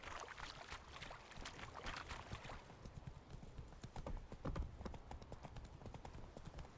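Brisk, steady hoofbeats from a horse trotting in The Witcher 3 Wild Hunt, clip-clopping close and continuous over a soft game ambience with faint background hiss.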